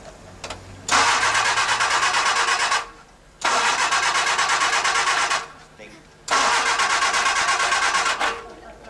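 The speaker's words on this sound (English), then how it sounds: "It won't start, man." A car engine cranks three times in long bursts, each whirring for about two seconds and then stopping, without catching or starting; the cranking is close and loud.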